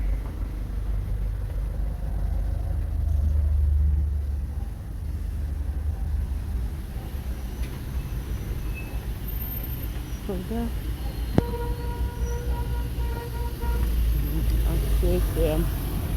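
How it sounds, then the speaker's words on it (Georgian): Heavy street traffic with cars passing, a continuous close low rumble that swells as vehicles go by, under someone talking. "ასეა ძალიან ბევრი მანქანა მოძრაობს და გადასვლა პრობლემატურია."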